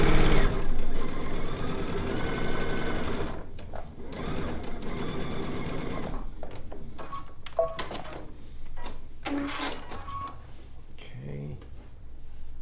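A sewing machine stitches quilt rows in quick runs of rapid needle clatter, starting and stopping close by, with a person talking over parts of it.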